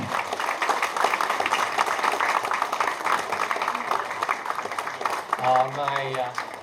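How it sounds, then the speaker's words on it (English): A crowd applauds once more to welcome the Prime Minister, steady moderate clapping that carries on for several seconds before a voice begins speaking near the end. "one more time a round of applause to welcome him"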